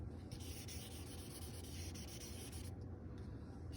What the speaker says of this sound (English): So let's write a 3 and erase this.